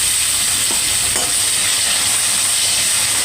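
Coriander and curry leaves frying hard in oil for a spicy Andhra chicken fry, a loud, dense, continuous sizzle with bright hissing throughout and no talking.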